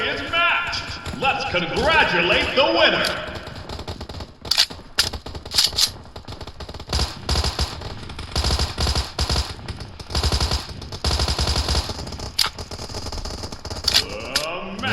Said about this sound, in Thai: ฟังเสียงเรายิงบ้าง